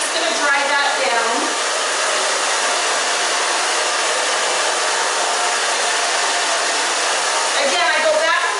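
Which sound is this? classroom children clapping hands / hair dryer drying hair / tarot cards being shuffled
hair dryer drying hair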